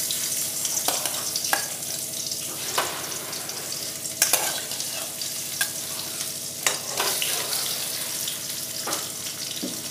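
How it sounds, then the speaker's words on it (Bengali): Fish heads fry in hot oil in a pan, a continuous close crackling sizzle with frequent sharp spattering pops and scraping stirs, no talk. "এবার ওই গরম তেলে মাছের মাথাগুলো দিয়ে দেব"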